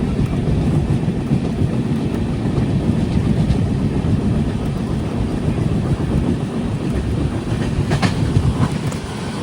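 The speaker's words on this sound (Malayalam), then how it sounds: "ട്രെയിൻ ഇപ്പോൾ ഗവർണർ റോഡ് സ്റ്റേഷനിലേക്ക് എത്തിയിരിക്കുകയാണ്" Riding aboard the Matsyagandha Express sleeper on a rainy Kerala-to-Mumbai run, a continuous low rumble and rhythmic wheel clatter fill the cabin, steady and fairly loud from start to finish.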